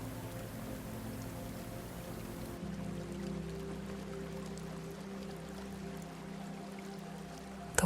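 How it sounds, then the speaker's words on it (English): Stream water flowing past stones, a soft continuous wash and trickle, faint and steady, with a brief change in texture partway and a small knock at the end. "The water moves past you without effort."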